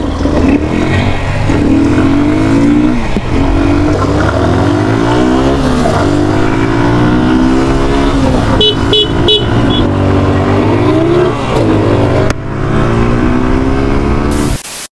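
A Suzuki Gixxer and a Lifan KPR motorcycle race, engines revving loudly up and down through repeated gear changes up close, with a short burst of horn toots partway through.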